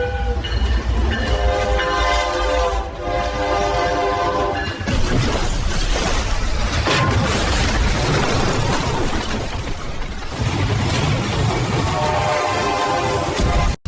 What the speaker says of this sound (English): Here comes 186 coming through the crossing